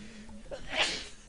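A single sneeze bursts out near the middle of a short stretch of quiet room sound during game play, rising sharply and fading within a fraction of a second.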